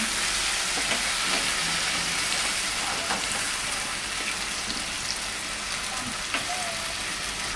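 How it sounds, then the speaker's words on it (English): Tomatoes frying on high heat in a pan make a dense, continuous hiss like steady rain, with occasional faint clicks and scrapes, close and even throughout. "we're going to cook the tomatoes on high heat"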